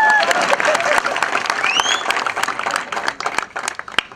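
Crowd applause at an outdoor political rally in Jogeshwari East, a dense wash of many hands clapping steadily throughout, loud and close, with scattered cheers and whistles rising above it.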